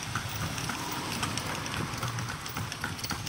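Rain falling steadily during a horseback ride in Vigan, a dense continuous patter close by with no breaks, heard alone.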